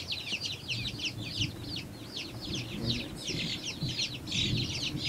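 A batch of baby bantam chicks peeps continuously, with high, shrill chirps overlapping in a busy chorus close by, over a low background rumble.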